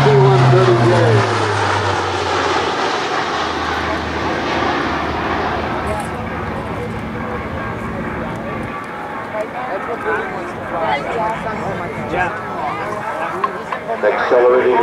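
A C-130J Hercules turboprop in an airshow flying demonstration, its engine drone loud and steady throughout as it passes overhead, with an announcer talking over it.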